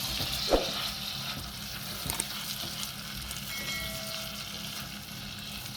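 Butter hits hot amber caramel in a pan and sizzles quietly and steadily, with a sharp crackle near the start and a few small pops later.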